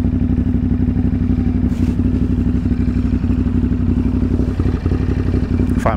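A motorcycle with an aftermarket exhaust rides in second gear through Brooklyn streets, its engine a loud, steady, close-up low throb with some clatter and no speech.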